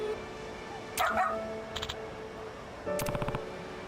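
A dog in the game Like A Dragon: Pirate Yakuza gives short barks and yips in two bursts, one near the start and another louder burst near the end, over a low game background.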